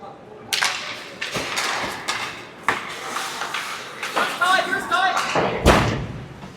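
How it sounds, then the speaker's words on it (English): A body check in an ice hockey game drives a player into the boards right in front of the microphone. Sharp thuds and slams carry over rink noise and stick clatter, with commentators talking throughout. "Good hit by Ty there, and the board's right in front of us here"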